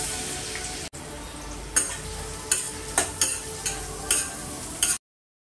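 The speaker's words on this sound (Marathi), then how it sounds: "बटर टाकलं आणि कांदा टाकला आहे आणि आलं लसणाची पेस्टसुद्धा टाकते मी." Onion sizzling in oil and butter in a kadhai, with ginger-garlic paste, for pav bhaji; a steady close frying hiss with several sharp stirring clinks and scrapes at regular intervals, no voices.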